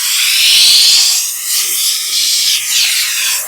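A steam cleaner jets dry steam along a car door seal, a loud, close, continuous hiss that swells and shifts in tone as the nozzle moves, with no talking.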